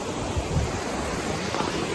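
Brief burst of water churning and washing, a steady broadband rush with slight wind buffeting on the microphone.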